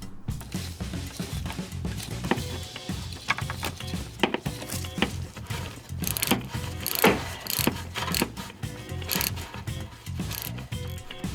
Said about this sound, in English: then you can just loosen it with a couple of turns of the ratchet